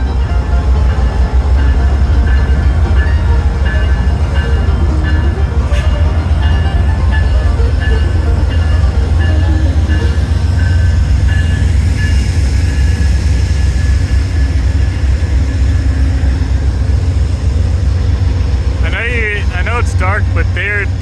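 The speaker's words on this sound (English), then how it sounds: "it's dark, but those locomotives are definitely smoking hard." Diesel locomotives haul a train at night under heavy load, a loud continuous deep engine roar and rumble with rail noise throughout, plus a brief high squeal near the end.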